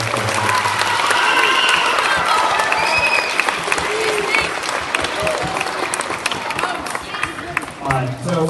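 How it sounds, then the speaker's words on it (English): Students and families at a sixth-grade awards day give a loud, sustained round of applause for their teachers, dense clapping with cheers and voices mixed in throughout. "Let's give our teachers a round of applause."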